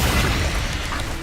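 Incendio fire spell in the video game Hogwarts Legacy, a short loud whooshing burst of flame with a booming low rumble, alone with no talk.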